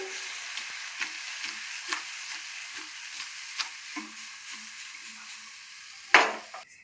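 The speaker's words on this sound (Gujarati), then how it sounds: "આપણે ચમચાથી નહીં હલાવી, કેમ કે અંદર આપણે રોલ પાડેલા છે એ વિખાઈ જાય, આવી રીતે આપણે હલાવશું" Patra rolls sizzle softly in a pan while the pan is shaken rather than stirred with a spoon, giving repeated light scraping shuffles over the frying, then a louder clatter near the end.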